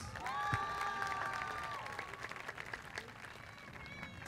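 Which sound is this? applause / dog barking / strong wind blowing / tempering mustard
applause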